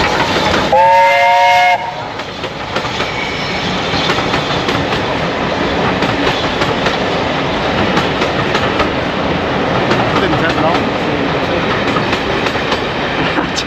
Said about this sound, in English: I think there's a train coming past here.